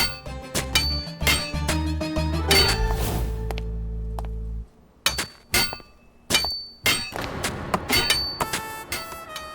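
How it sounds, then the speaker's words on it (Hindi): Digging tools clinking and clanging against hard ground, with scattered sharp strikes, a low rumbling stretch, then more irregular knocks and scrapes. "ये खुदाई की आवाज है, हमारे हेडक्वार्टर्स में खुदाई हो रही है।"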